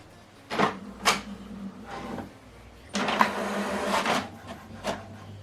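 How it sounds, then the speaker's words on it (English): An HP Deskjet inkjet printer prints a document at 600 dpi, giving close mechanical whirs and clunks in uneven bursts, with a steady low motor hum and a longer, denser stretch of feeding and carriage movement, and no talk. "Now this document is printing."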